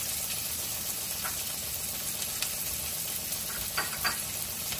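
Onions, dried chillies and cumin sizzle in hot oil in a pan, a steady close hiss with occasional soft pops and stirring clicks.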